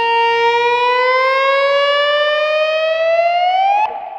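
A single sustained slide guitar note, played without fretting, glides slowly and smoothly upward in pitch for about four seconds, then stops abruptly.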